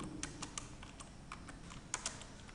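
Java code is typed on a computer keyboard, a steady run of soft key clicks at an irregular pace with occasional louder taps, close and quiet, with no voices.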